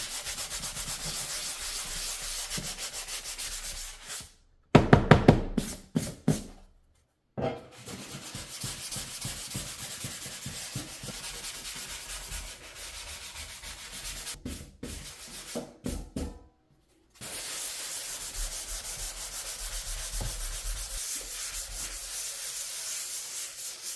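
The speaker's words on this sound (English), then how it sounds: "after you sand everything down" Sandpaper rubbing over a drywall patch as it is sanded smooth for paint, a steady close scratchy scrubbing that stops briefly a few times, with short sharper strokes in between.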